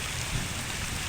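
Heavy rain falls in a forest as a steady, unbroken wash of drops, close and constant for a brief moment, with no talking.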